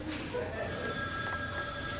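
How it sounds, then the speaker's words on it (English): A cell phone rings on stage in a theatrical performance, a thin electronic trill repeating steadily at moderate volume. "A Serbian cell phone."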